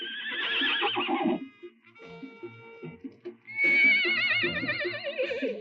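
Horses whinny loudly, one shrill neigh at the start and a longer, quavering one later, with softer snorts and shuffling in between.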